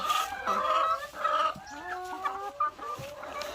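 Laying hens cluck in a coop housing about 120 birds, a steady overlapping chorus of clucks and rising calls, close and continuous with no talk.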